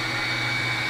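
A pet dryer blows air after a bath for Persian kittens, giving a loud, steady whooshing roar with a low motor hum, unbroken for the whole moment.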